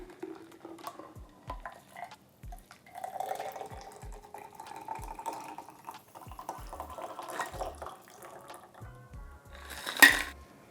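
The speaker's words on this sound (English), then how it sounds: "And strain over ice." A shaken whisky cocktail strained over ice into a glass, with a run of small clinks and ticks of ice, a trickling pour, and a sharp louder clink near the end.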